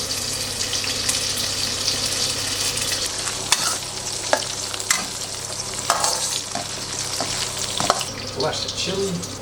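Chinese sausage (lap cheong) sizzles steadily in a hot pan, with occasional scraping clinks of a spatula stirring and a faint trickle of water.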